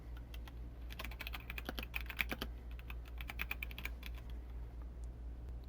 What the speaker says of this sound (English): Now, we're going to type some text.